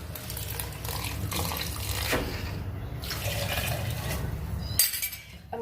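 About 1.5 cups of milk pour into a blender for a banana shake, a continuous close liquid splash and gurgle lasting several seconds before tapering off.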